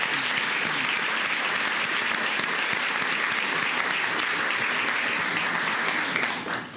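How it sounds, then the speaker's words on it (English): Audience applause at a county commissioners court meeting, honoring a police officer; steady, dense clapping from a room full of people that holds through the whole stretch and starts to thin out right at the end. "So let's give Officer Hooks a round of applause."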